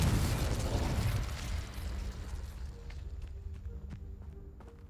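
Fire and blast spells cast in the video game Hogwarts Legacy: a loud, roaring burst of flame and rumble that fades over a few seconds, leaving faint crackles and small pops behind.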